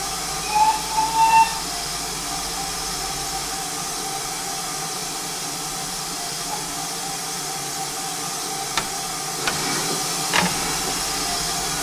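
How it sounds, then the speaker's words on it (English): Steam pannier tank locomotive departing a station, a steady low rumble and hiss running throughout, with a few brief whistle-like tones early on and some clanks toward the end. "And off the train went"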